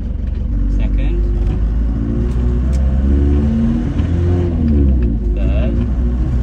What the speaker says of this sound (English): All that's left for me to do is take it for a little test drive and make sure all the gears are nice and smooth.